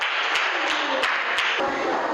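A small group claps briefly in a classroom lesson, giving scattered, fairly even applause that holds for a couple of seconds.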